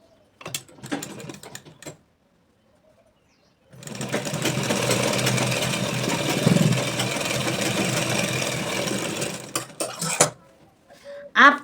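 Sewing machine stitching a bag made from an old shirt, a steady continuous whirring run of about six seconds, with brief handling noises before and after.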